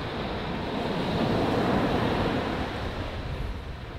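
Ocean surf washes steadily onto Culburra Beach at night, a broad continuous roar of breaking waves close by with wind buffeting the microphone and no voices.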